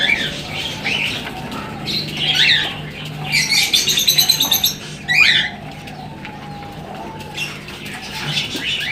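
Pigeons feed on scattered grain nearby, with soft wing flutters, pecking rustles and bursts of chirping and squawking coming and going over a steady low background.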